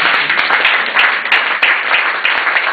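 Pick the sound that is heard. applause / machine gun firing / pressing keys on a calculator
applause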